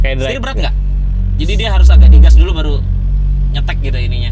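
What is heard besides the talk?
None of the usual background noises is heard.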